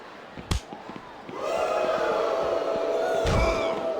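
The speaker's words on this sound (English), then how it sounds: "I think this crowd's giving these superstars a piece of their minds, King." Arena crowd noise from the WWE SmackDown vs Raw 2007 video game during an Iron Man match between John Cena and Kurt Angle, a sustained roar that swells in after a couple of sharp impacts, with commentators talking.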